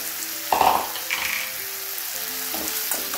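Chopped ridge gourd dropped into a hot pan, a sudden burst of sizzling that settles into steady frying hiss, close, with some stirring and soft background music, no talking.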